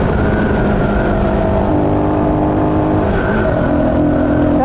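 A motorbike engine pulls hard uphill with a loud, steady, close drone that rises slightly in pitch, heard alone without talk.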